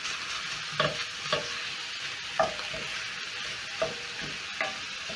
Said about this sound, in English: Try and break down the meat using my spatula.